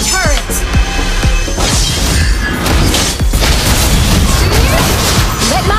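A turret being destroyed in a video game, with loud booming crashes and shattering bursts over a busy game soundtrack and an announcer-style voice.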